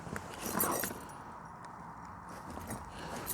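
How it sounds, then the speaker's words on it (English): Car keys jangle and clink softly at close range inside a car being converted into a small camper. The metallic rattles come in short bursts against a quiet background. "Aren't car keys always great?"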